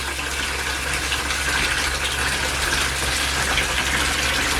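Water gushes steadily from a tap into a camper bathtub while the lines are flushed, a loud, continuous rushing flow that holds even throughout with no voices.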